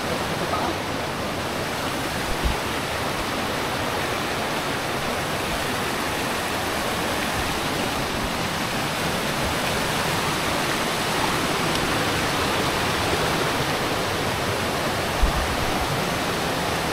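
Steady broadband rush of stream water flowing over rocks in a Mindoro river, a constant close wash with no pauses.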